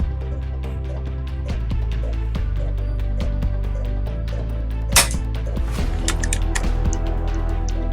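An AGT Vixen air rifle set up for benchrest shooting fires a few quick sharp cracks, one louder snap standing out mid-way, over a constant low electrical hum with faint clicks.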